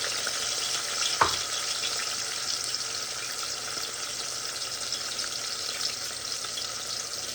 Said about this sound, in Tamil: இப்போ கடுகு பெரிய சீரகம் போட்டுட்டேன். வெங்காயம் போட்டுக்கொள்ளுவோம்.